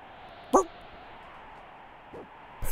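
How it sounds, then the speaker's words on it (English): A single short dog bark in Final Fantasy VI, one brief sharp burst early on over a steady low background hum, followed by quieter faint sounds. "I love that single bark."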